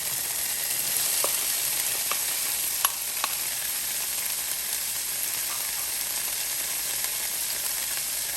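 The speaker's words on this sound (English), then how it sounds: "Then we go in with our carrots. Our celery." Carrots and celery frying in a pan for a lentil loaf, a steady close sizzle with a few faint clicks of a utensil, continuous and unvoiced.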